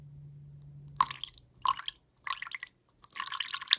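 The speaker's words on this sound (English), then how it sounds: "Drip, drip." Liquid dripping into a handheld cup during an ASMR ear-cleaning roleplay, a few close, distinct drips and wet splashes spaced about a second apart, quiet and with no talking.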